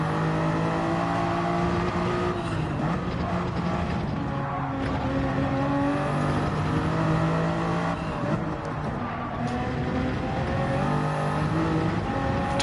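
Race car engine in a racing video game, a loud, continuous droning roar whose pitch rises and falls with acceleration and easing off for corners, steady throughout without pauses.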